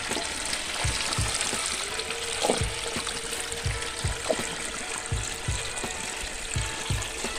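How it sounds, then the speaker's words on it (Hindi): Village cows and other animals drink from flowing water, with a steady close trickle and splash running throughout and repeated soft slurping and lapping sounds at an irregular rhythm. "ये सब लगे फटाफट पानी पीने में।"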